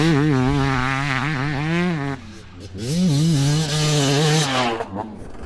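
An 18-year-old two-stroke dirt bike revs and pulls away on its first ride, a loud buzzing engine whose pitch climbs and falls in repeated surges, dropping briefly to idle before rising again.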